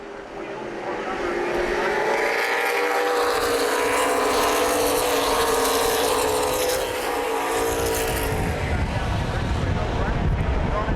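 CRA Super Series race cars roar around the Columbus Motor Speedway oval, a loud, sustained engine drone that swells as the pack passes, under an excited race commentator's voice.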